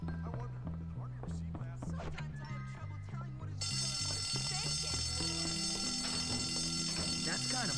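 A fire alarm rings in the schoolyard video game Bully, its repeating electronic tone running steadily under a voice talking and game sounds, then joined by a brighter, louder ringing bell partway through.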